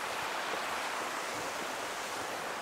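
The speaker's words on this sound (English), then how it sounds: "now to our very first amazing scenery here. This waterfall." An ancient waterfall on a nature trail, heard as a steady, loud broadband rush of falling water that never lets up.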